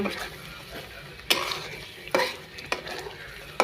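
Homemade pav bhaji masala is stirred and sautéed in a pan: a soft continuous sizzle broken by four sharp scraping strokes of a spoon against the pan, spaced about a second apart.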